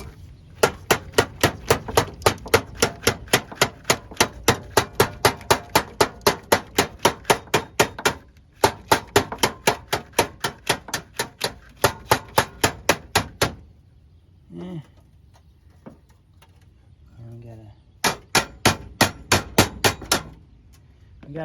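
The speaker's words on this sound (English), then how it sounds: "let's see if we can tap that in a little bit more" Sharp, rapid hammer taps on the battery-area body panel of a 1991 Buick LeSabre, struck in long steady bursts of metallic blows with brief pauses and a quiet gap near the middle, close and loud.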